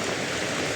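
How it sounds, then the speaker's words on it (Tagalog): Strong wind and rain in a storm, a dense steady rushing hiss with no pauses in a brief burst, no voices. "medyo lumakas-lakas na rin po yung hangin dito at saka ulan"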